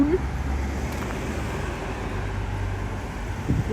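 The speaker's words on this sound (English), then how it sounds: "Walking into oncoming traffic." Road traffic on a night street in Iwaki, Japan, heard while walking alongside, a steady rumble of passing cars with a faint whine and brief louder swells, under occasional background chatter.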